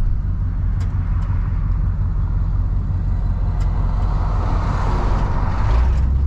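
A 1970 Oldsmobile Cutlass SX cruising on the road, its engine a loud, steady low rumble under constant road and wind noise with no clear breaks, recorded from inside the car.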